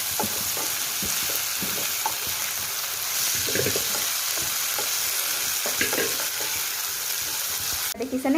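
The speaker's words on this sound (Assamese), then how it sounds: "দেখিছেনে এইখিনি মই ভাজি আছোঁ ধুনীয়াকৈ।" Pumpkin peel and potatoes fry in a pan with a constant close sizzle, while a spatula scrapes and stirs in irregular strokes over the top.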